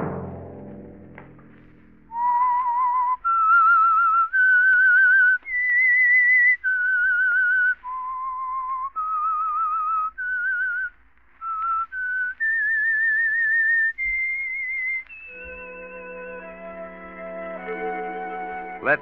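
The whistled theme signal of The Whistler radio mystery program: a lone, clear whistled melody of about a dozen sustained, wavering notes, followed by a swell of orchestral music.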